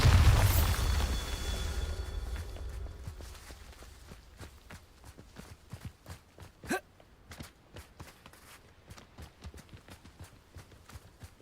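A Bombarda blasting spell from Hogwarts Legacy, a loud booming burst that fades out over a couple of seconds, followed by quieter footsteps and small impacts.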